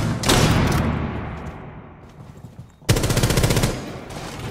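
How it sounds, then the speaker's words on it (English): A video game firefight with a stun grenade and gunfire: loud sustained automatic bursts at the start, a fading lull, then another abrupt heavy burst of rapid rattling shots, with no speech. "stun grenade out"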